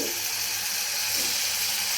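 Water poured into a pan of chickpea kootu, a steady broadband hiss and splash that runs evenly through the whole moment, close and moderately loud with no talking.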